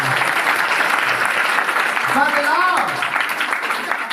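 A church congregation claps loudly in unison at a Hindi-language worship service, sustained dense applause filling the room, with voices and a brief sung or spoken phrase rising over the clapping partway through.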